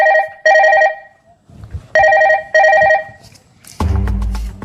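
A telephone rings close by in repeated bursts of electronic trilling, four rings with short gaps between them, followed by a louder thump and rustle as someone picks it up.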